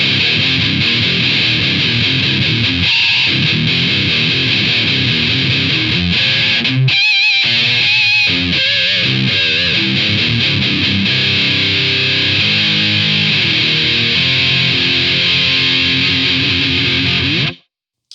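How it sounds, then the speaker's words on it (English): A heavily distorted electric guitar through a Hotone Skyline distortion pedal plays loud, thick chords and palm-muted chugs, with a brief gap near the middle, then cuts off sharply. "That is a nice rounded off distortion sound I'm getting out of that."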